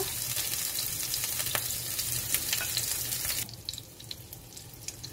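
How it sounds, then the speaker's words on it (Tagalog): Beaten egg mixed with vegetables sizzles steadily in a hot pan, a dense continuous frying hiss with faint scraping, dropping somewhat quieter partway through but carrying on without talk. "Siyempre, ilagay natin yung egg na may mix na."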